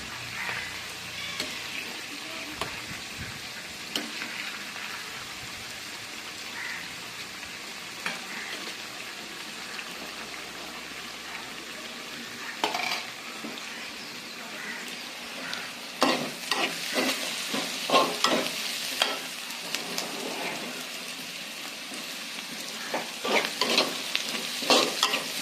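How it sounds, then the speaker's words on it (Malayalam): Fried chicken pieces are stirred in a hot pan, with a soft continuous sizzle and irregular scraping strokes of a spoon against the pan. The stirring grows busier and louder in the second half. No one speaks. "ചിക്കൻ വറുത്തതൊന്ന് ഇളക്കി കൊടുക്കാം."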